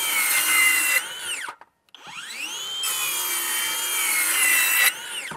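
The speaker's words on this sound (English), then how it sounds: "where this saw really seems to shine is when you're using it on plywood, laminated wood," A new circular saw, known as a skill saw, rips through plywood or laminated wood with a loud, close, sustained whine, the pitch sweeping as the blade spins down in a brief pause and then cuts again.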